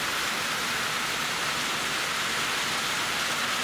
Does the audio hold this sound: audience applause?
no